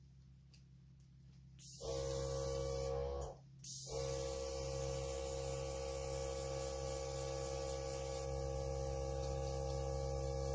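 A dryer, likely a heat tool, blows on a craft flower's middle part. It starts abruptly as a loud steady whirring hum, cuts out briefly, then resumes and runs continuously nearby.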